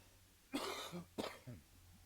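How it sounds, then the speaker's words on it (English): Two harsh coughs from a sick person close to the microphone, the second shorter, followed by a small throat-clearing sound. "I'm so sorry for the cough."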